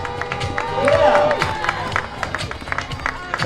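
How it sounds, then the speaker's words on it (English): A parade crowd at a Christmas parade claps and cheers for the parade director, with applause swelling mid-clip amid whoops and nearby chatter, plus a brief tonal squeal and scattered voices over the crowd noise. "Show Dennis your support by a big round of applause."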